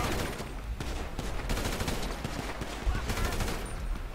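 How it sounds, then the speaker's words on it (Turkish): Rapid bursts of gunfire in Grand Theft Auto V, shots firing in fast sequences across the clip at close range, with a voice speaking at times over the shooting. "Dağa taşa sıkıyorum arada."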